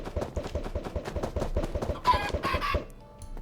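Chickens in a Minecraft-style Skyblock video game cluck in a steady stream of short, rapid calls, with a brief scratchy burst of higher noise near the end before things quiet down.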